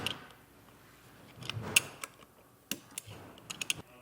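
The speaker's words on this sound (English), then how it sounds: "get this tightened on. I'm using a 12mm wrench" Metal clicks and ratcheting ticks from a 12mm wrench tightening an air fitting on a Firestone Ride-Rite air bag kit on a 2022 Ford truck, a few sharp close taps spread across the clip with quiet gaps between.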